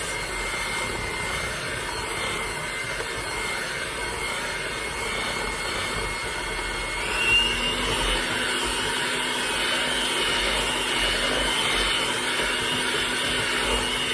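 An electric mixer beats eggs into cheesecake batter with a continuous, even motor drone that holds steady throughout, with no talking.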